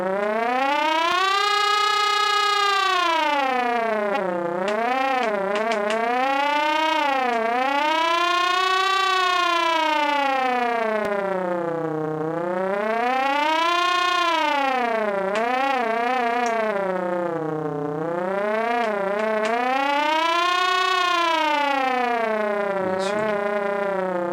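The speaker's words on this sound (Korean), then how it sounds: "스크래치를 이용해서 테레민, 전자악기 테레민을 구현을 해봤어요" A continuous electronic theremin tone built with micro:bit and Scratch glides smoothly up and down in slow, wavering swoops, sounding alone and steady throughout.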